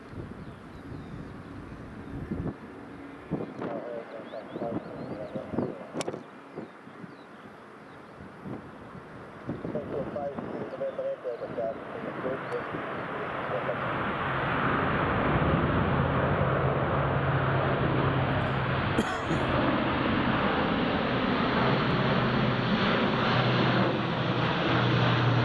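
An aircraft approaching Edinburgh Airport builds from faint, gusty wind noise into a broad, swelling jet roar that grows louder and holds steady over the last ten seconds.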